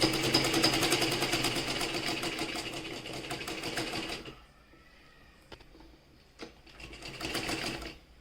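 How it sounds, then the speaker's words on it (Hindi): Sewing machine stitching right along the edge of a fabric placket, a steady loud whirring run for about four seconds, then stopping, with a few faint clicks and a short second burst of stitching near the end. "ये देखिए बिल्कुल किनारे की सिलाई लगाते हुए"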